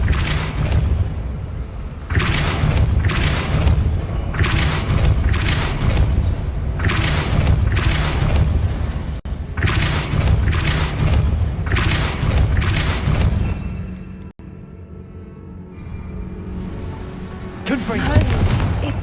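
Repulsor spell blasts in Hogwarts Legacy: a series of heavy booming bursts in a repeating rhythm, loud and close, pausing near the end before another surge.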